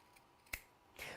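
Scissors trim fabric during sewing: two short, crisp snips about half a second apart, close and fairly quiet, with no talk.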